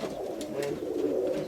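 A roller pigeon coos steadily up close, a soft continuous throaty warble with no other sounds over it.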